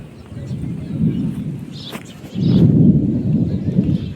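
Rumbling thunder rolls with heavy rain during a thunderstorm, a low continuous roar that swells louder and denser after a brief lull midway, loud and sustained throughout.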